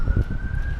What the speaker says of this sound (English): listening to police sirens. Or no, that's an ambulance